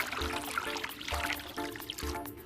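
Water is poured into a cup to make green tea, a faint, close trickling and splashing with soft repeated surges of the stream.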